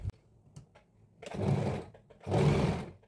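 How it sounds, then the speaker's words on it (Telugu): A sewing machine stitches the front panel of a girl's crop top in two sustained loud bursts of running, separated by a brief pause, with a few faint clicks before. "మనం ఇప్పుడు స్టిచ్ అయితే వేసుకుందాం"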